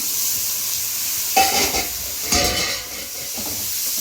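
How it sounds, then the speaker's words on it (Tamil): Onions fry in a pan for a prawn gravy with a steady sizzling hiss, then tomatoes drop in with a louder crackling burst, followed by stirring scrapes and renewed sizzle. "வெங்காயம் நல்லா வதங்கிடுச்சு, இந்த அளவுக்கு வதங்கினா போதும். தக்காளி போட்டுக்கலாம்."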